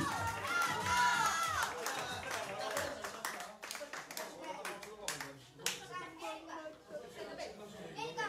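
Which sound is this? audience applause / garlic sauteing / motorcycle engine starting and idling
audience applause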